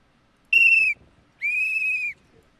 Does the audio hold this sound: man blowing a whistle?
yes